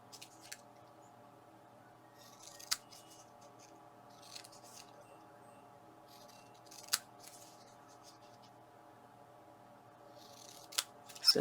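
Scissors trimming craft paper down, a few sharp isolated snips spaced several seconds apart over a quiet, faint background.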